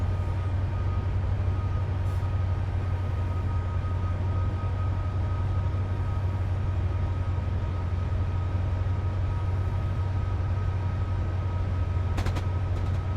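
Steady low rumble of a Freightliner freight train climbing a grade in Train Simulator Classic, a constant deep hum with a faint whine, a couple of brief clicks near the end.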